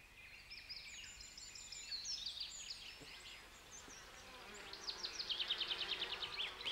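Paper wasps (Polistes) buzz around a quarry or sandpit, several faint wing hums rising and falling as insects fly close by, with a more rapid pulsing drone near the end.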